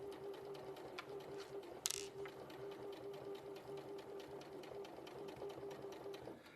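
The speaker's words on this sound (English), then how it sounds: "So you get attuned to your sewing machine, don't you?" A sewing machine runs at a steady pace with its needle thumping in an even, rapid rhythm. It is fairly quiet, with one brief sharp clatter partway through, and no talking.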